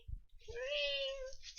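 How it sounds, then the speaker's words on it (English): A cat meows in a long, drawn-out plaintive wail from the background of a kitchen during holiday cooking, one sustained cry rising and falling, moderately loud, preceded by a couple of low thumps. "my cat, who is still meowing"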